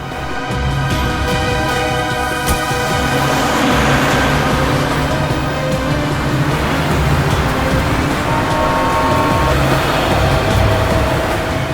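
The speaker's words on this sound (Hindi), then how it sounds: "गाड़ी चलाओ।" A loud, continuous vehicle engine rumbling steadily as it moves, with road noise filling the whole stretch and no voices.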